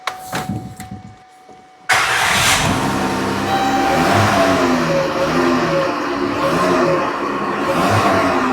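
A 2014 Dodge Grand Caravan with a throttle fault code starts up, then its engine runs and revs steadily under the throttle, loud and close, with no one speaking.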